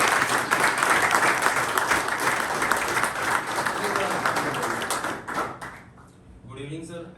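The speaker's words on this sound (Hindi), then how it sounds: "पहले तो उसके लिए पहले ही जोरदार तालियां।" An audience at an International Day against Drug Abuse event gives loud, sustained applause for several seconds that fades out, followed by a person starting to speak.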